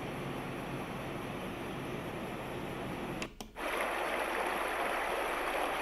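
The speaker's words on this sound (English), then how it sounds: "mountain stream." Steady, broad rushing of a mountain stream from a Sound Oasis S-6000 sound therapy machine, constant and full, with a brief dip and click midway before the flow resumes.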